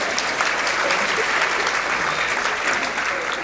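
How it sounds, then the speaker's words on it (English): An audience at a Welcome to Country gathering claps together, a dense, steady roar of many hands that holds at an even level throughout, fairly close. "Give yourself a clap."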